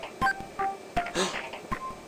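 Short electronic beeps from a phone text message notification, a few separate chirps over about two seconds, heard under a person talking close by.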